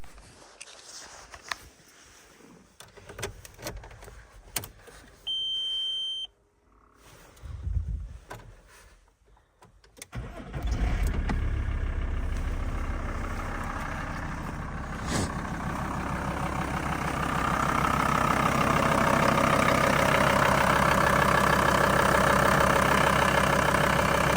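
Volkswagen T4 Caravelle 2.5 TDI diesel engine cranking, then catching and settling into a steady, loud idle that grows slightly fuller over time, with scattered handling noises before the start.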